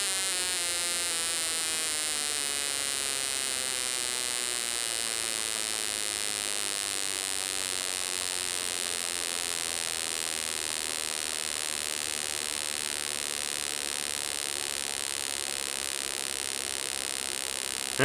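A Honda CBR125 performance-pack ignition system is spark-tested at very high RPM. It produces a continuous, even electric buzz with a dense harmonic whine that shifts slightly in pitch, and no voices are heard.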